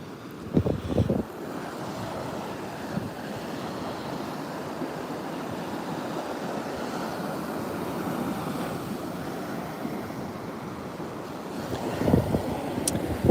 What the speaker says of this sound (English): I'd say those are probably probably knee-high waves